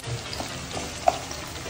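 Cumin seeds fry in a home kitchen pan, giving a soft, steady sizzle with a few light stirring taps and one brief sharp click.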